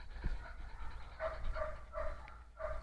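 A Belgian Shepherd barks in short repeated bursts during obedience and bite-work training, four or five fairly faint barks at an even rhythm over low background rumble, with no clear talk.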